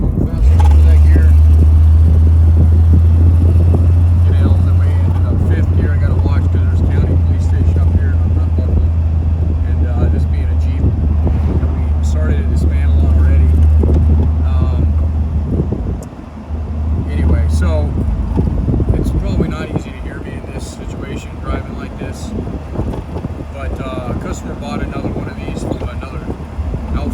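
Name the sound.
Jeep CJ7 driving and shifting gears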